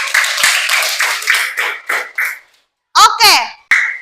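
Classroom students clapping their hands together during a Catholic religious education lesson, a burst of brisk, fairly loud claps that stops briefly before a few scattered claps and a voice follow.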